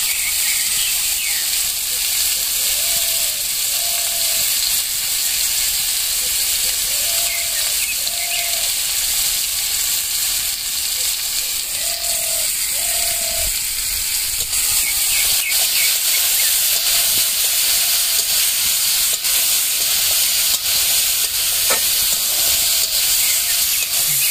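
Spices with salt, turmeric and chili powder frying in a pan for Royel fruit (orboroi) achar, giving a steady close hiss and sizzle throughout with faint brief tones now and then.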